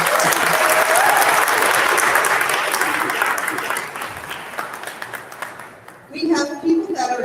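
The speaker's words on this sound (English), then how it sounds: "Let's give them all a round of applause." Loud, sustained applause from a crowd at a Penn State World Campus graduation ceremony, steady clapping that fades slightly before a voice begins speaking near the end.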